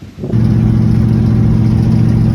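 A 1970 Chevrolet Nova engine starts up and runs, loud and close, settling quickly into a steady, rumbling idle that holds to the end.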